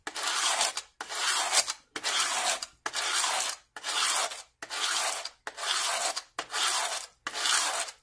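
A clipper cutter blade is sharpened by hand, nine evenly spaced rasping strokes of metal against an abrasive, each about a second long with short pauses between, close and clear with no talking.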